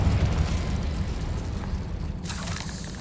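Blasts from the explosive Confringo and Bombarda spells in the game Hogwarts Legacy roll out as a loud, dense rumble with a fresh burst near the end, and no talking over them.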